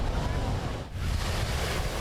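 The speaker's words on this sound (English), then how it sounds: "massive waves pounded the shoreline for the 2nd straight day at the Wedge" Heavy surf pounds the shoreline at the Wedge, a continuous loud roar of crashing ocean waves with wind buffeting the microphone and a brief lull midway.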